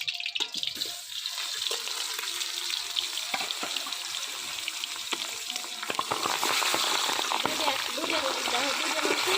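Katla fish head frying in hot mustard oil in a village kitchen pan, a loud, steady crackling sizzle that runs throughout, growing slightly denser toward the end, with faint stirring and background noises.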